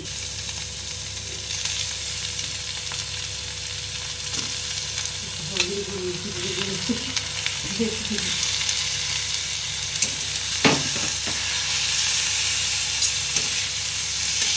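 Bamboo shoot pieces are stirred gently in a hot pan, making a continuous close sizzle overlaid with scraping, rattling strokes of a spatula.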